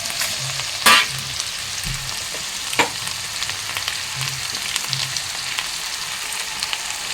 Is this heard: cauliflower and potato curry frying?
yes